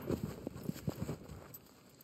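Horse hooves clip-clopping in the video game Shadow of the Colossus, around half a dozen quick hoof strikes that fade into quiet ambience.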